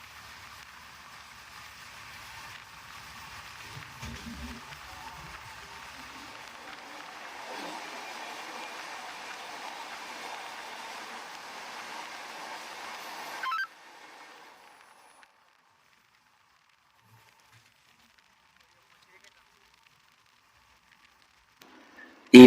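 An express train passes through tunnels beyond Bhopal, heard from inside as a steady broad roar and rattle for about thirteen seconds. It then cuts off abruptly into near silence, ending in a sharp knock.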